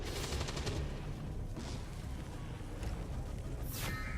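Gunfire in the video game XCOM 2: War of the Chosen, quiet rapid bursts of shots over a dense rumbling background, with a sharp sweeping whoosh near the end.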